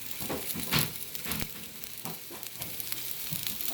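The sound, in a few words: Brussels sprouts frying in oil with smoked turkey sausage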